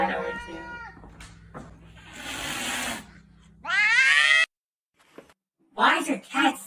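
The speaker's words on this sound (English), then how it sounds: "Why is your cat screaming?" A cat lets out several loud, drawn-out yowling screams, close by, with brief pauses between cries.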